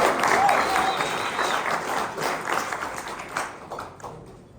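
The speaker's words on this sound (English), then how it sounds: "Round of applause, please." Audience applause at a pub politics event welcoming the MC, a full, loud burst of many hands clapping that thins out and fades over the final second into scattered claps.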